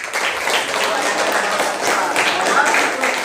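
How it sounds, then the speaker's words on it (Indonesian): A classroom of students claps together in a loud, dense burst that holds steady for a few seconds, close and energetic, with a few voices mixed in. "Oke, tepuk tangan."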